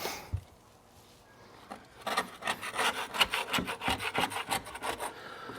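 A five-in-one paint scraper rasps flaky old paint off a front door in quick, rough strokes that start after a quiet pause and grow into a steady, close scratching rhythm.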